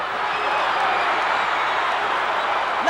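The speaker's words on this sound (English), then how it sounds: "Listen to that crowd as Rogers sprawls full length on the mat" Loud, dense arena crowd roaring and cheering continuously at a professional wrestling match, a steady wall of voices with scattered clapping and no clear break.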